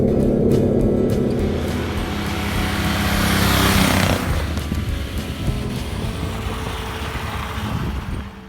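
A street legal go kart driving at top speed on a straight, level road, its engine roaring loud and steady with rushing wind noise, the pitch swelling near the middle before easing off.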